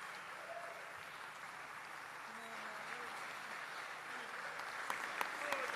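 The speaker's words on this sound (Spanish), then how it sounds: "por cierto también de Cristian Gálvez, para quien pedimos nuevamente un cariñoso aplauso." Faint, distant applause from a concert audience for a chamber ensemble at a university gala, a soft continuous patter with a few sharper claps near the end and faint voices beneath.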